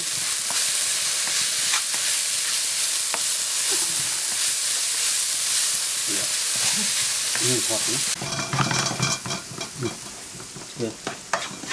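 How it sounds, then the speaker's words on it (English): Onion, chili, garlic and ginger fry in a pan with salt, a steady loud sizzle and hiss, then stirring scrapes and clatter break through near the end. "Now let it fry well."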